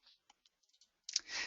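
Soft, close mouse clicks on a web page option, several faint ticks spaced irregularly, then a brief breathy sound at the end.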